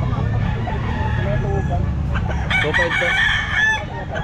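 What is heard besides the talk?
Sweater gamefowl rooster crowing and clucking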